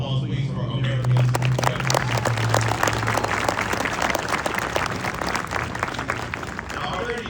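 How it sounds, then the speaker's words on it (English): A graduation-day crowd at a Marine Corps recruit depot applauds loudly and densely, sustained clapping filling the whole stretch with a low hum at the start. "Ladies and gentlemen, a round of applause, please, for Americans."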